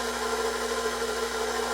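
An electric mixer kneading bread roll dough with flour and salt, giving a steady whirring motor hum with a constant tone throughout this short moment.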